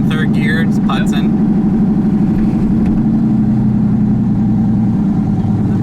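Turbocharged LSX V8 in a Chevrolet Colorado pickup lugging along at about 1,500 rpm in third gear, a steady low droning rumble throughout with a brief burst of other noise at the start.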